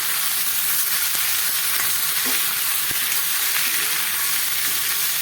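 Chopped ripe tomatoes sautéing in a pan, with a loud, continuous, close sizzle that holds steady throughout, broken only by a couple of faint clicks.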